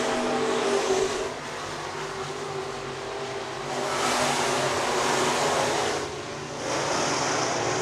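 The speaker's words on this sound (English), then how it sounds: "now he'll try to keep pace with Richards down the back straightaway." Sprint cars race on the dirt oval at Crawford County Speedway, their engines roaring in a loud continuous drone that swells in waves as the pack sweeps past.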